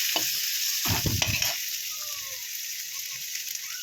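Pirandai, or adamant creeper, sizzles steadily as it is sautéed in a pan, with a constant hiss of frying broken by a few close scraping stirs near the start.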